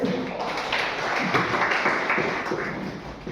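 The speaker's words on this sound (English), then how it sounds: "Please clap for Amrita Miss." Students clap for their teacher in a classroom, a dense, steady patter of many hands lasting a few seconds at moderate loudness, with faint voices mixed in.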